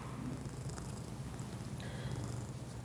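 A cat purrs close by in a steady rumbling rhythm, soft and continuous, with a few faint high sounds in the quiet room around it.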